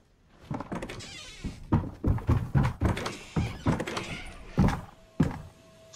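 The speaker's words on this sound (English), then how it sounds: "Bro, you just hear traps being placed." Traps being placed in Fortnite: a quick run of hollow clunking thuds and mechanical clatters, close and fairly loud, in an irregular rhythm.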